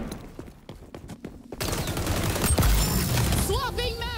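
XDefiant gameplay gunfire: scattered single shots followed by a dense, continuous burst of automatic fire and explosions, loud and close, with excited voices and game sounds mixed in.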